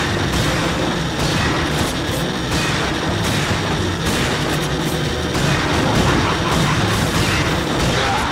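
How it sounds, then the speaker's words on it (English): Shotgun fire in the Time Crisis 4 arcade-style shooter: dense, booming blasts follow one another rapidly in a continuous, loud barrage of battle noise. "Use the shotgun!"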